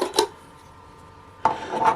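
A spoon stirs pizza dough ingredients with salt, pepper and thyme in a bowl, two short bursts of scraping and clinking separated by a quiet pause, close and fairly loud.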